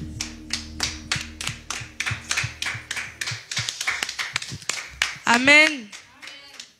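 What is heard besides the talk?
congregation clapping in acclamation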